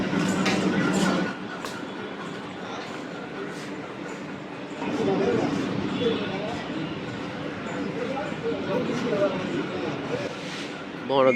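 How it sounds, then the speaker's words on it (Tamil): Steady rumble and clatter of a train at a Tamil Nadu station, with voices and station bustle over it; a louder surge of rolling noise partway through. "இதோ பன்னெண்டு மணிக்கு ட்ரெயின்"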